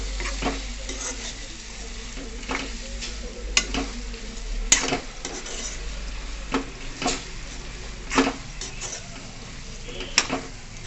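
Chicken pieces tipped into frying masala in a pan for chicken gravy, then stirred: a steady close sizzle throughout, with repeated scraping stirs and a few sharp utensil knocks against the pan.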